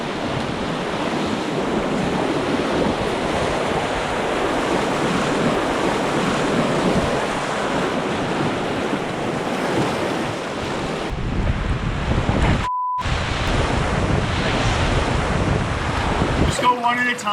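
Waves on an untamed river beside an island in the wilderness, a constant loud wash of water mixed with heavy wind buffeting the microphone, briefly cutting out near the end.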